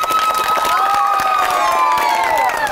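Loud cheering, whistling and clapping from a crowd of college freshers at a campus music event at Begunia College, with shrill whistles and voices held up throughout.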